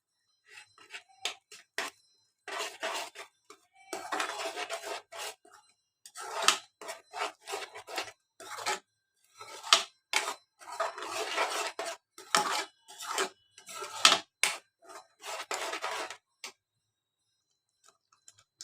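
A spoon scrapes and clinks against a pan while chickpea chole masala curry is stirred, in irregular bursts of close metallic scraping separated by short silences, with no talk.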